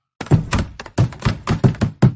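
Repeated hollow thunks and knocks, about seven in quick uneven succession, like a jammed car door being forced and rattled until it gives, close and loud with no talk, in a horror story setting.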